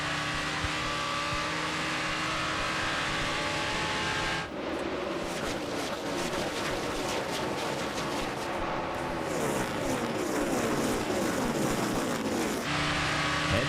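NASCAR Busch Series stock cars race at the 2007 Meijer 300, a loud continuous engine roar with cars surging and passing close by, pitch sweeping as they blast through turns and across the line.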